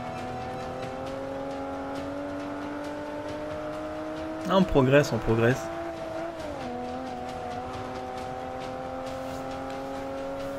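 A race car in Forza Motorsport 5 holds a steady engine drone that rises gradually, with a brief burst of shifting, squealing noise partway through and someone talking over it in French.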